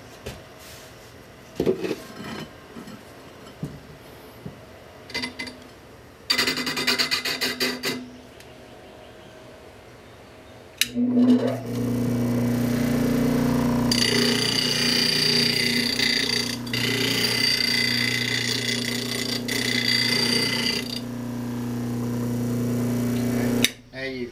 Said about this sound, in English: I'm grinding on the side of the, on the corner of the wheel